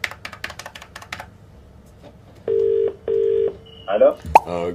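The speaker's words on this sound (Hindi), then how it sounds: "फोन मिलाओ।" A few clicks, then two long electronic dialing tones and a quick burst of keypad beeps, close and clear, as a phone number is dialed.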